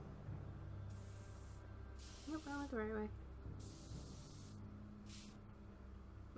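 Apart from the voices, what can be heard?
spray painting, from video game Back to the Future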